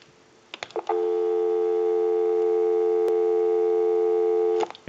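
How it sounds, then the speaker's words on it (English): An Automatic Electric Monophone rotary telephone gives off a steady, continuous dial tone heard up close at even volume, after a few faint clicks, and ends with more clicks. "We'll go ahead and give you some dial tone."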